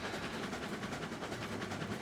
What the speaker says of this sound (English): the locomotive goes around it no problem at all with a full train on the back.